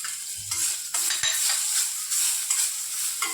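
Ginger paste with cinnamon fries in a pan, giving a steady close hiss of sizzling oil with a few brief scraping and stirring bumps of a spoon against the pan, no voices.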